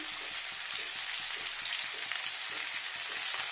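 Potatoes fry in a pan with salt and slit green chillies, a steady bright sizzle punctuated by a regular rhythm of soft stirring scrapes, close and continuous, with no talking.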